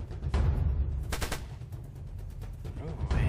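Rapid video game gunfire mowing down enemies, loud bursts of shots over a steady low rumble of game sound, with a stronger volley in the middle.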